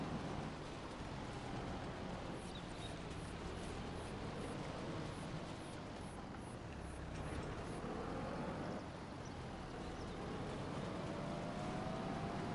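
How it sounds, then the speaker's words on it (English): A small tractor in Farming Simulator 25 drives with a steady, continuous engine drone and broad rumble that holds at an even level throughout, with no talk over it. "I just want to know who the heck designed this little tractor."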